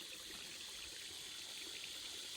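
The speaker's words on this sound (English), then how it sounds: "So now we just slowly fill the pond up." Water from a hose runs steadily into a pond, a continuous soft hiss and trickle, close and unbroken, with no voices.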